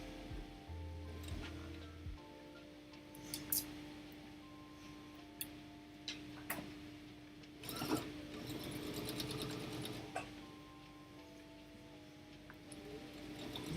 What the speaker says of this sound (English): I am going to stitch down 5mm from the edge there.